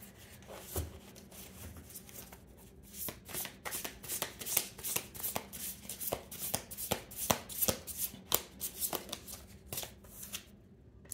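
Tarot cards are shuffled by hand over about eleven seconds in a quick, uneven run of crisp riffling slaps and flicks, close up and fairly loud.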